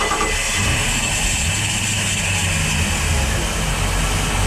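Twin Volvo 5.7 OSXI inboard engines on a 2005 Rinker 342 Express Cruiser running after a cold start, a steady loud low rumble with a mid-range drone, close up and continuous throughout.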